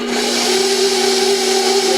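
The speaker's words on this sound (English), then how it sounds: "It's a couple of times around with the blender, and that's it." Mixer blending chocolate chips into cookie dough: a close, steady whirring motor drone with a constant pitch for two seconds, no voices.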